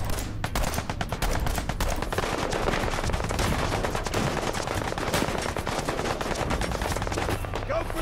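Rapid automatic gunfire from the video game Fallout 4, loud and continuous with dense bursts of shots running almost unbroken.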